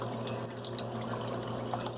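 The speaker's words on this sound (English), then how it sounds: "I don't want too thick, so I'm add more water" Water pours steadily into a pot of Lao quail stew, a continuous soft splashing trickle heard close up at moderate level over a low kitchen hum, with no one speaking.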